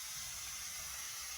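Taro (kochu) fries in a pan with salt and turmeric, producing a steady, quiet sizzling hiss that runs without pause or change.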